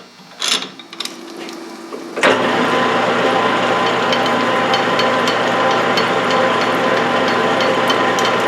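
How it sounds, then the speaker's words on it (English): A finishing reamer cuts the chamber of a new .308 rifle barrel for a Yugoslav M48A Mauser, starting after a few brief knocks and then running as a steady, close mechanical whir. "I'm going to go ahead and cut 40 with my finishing reamer"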